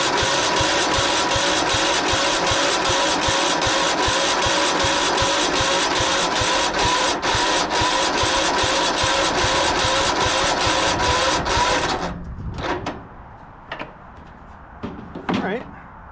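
A 1997 Craftsman II 30-inch rear-engine riding mower with the choke on, its engine cranking in a loud, fast rhythmic churn for about twelve seconds without catching, then stopping, followed by a few clunks and quiet talk.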